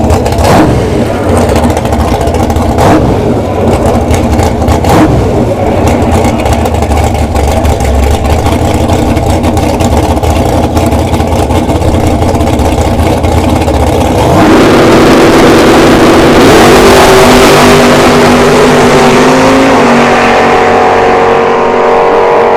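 A drag racing truck roars hard at a bracket race strip, a steady loud engine drone that surges into a sharper, higher-pitched acceleration partway through, with no talk over it.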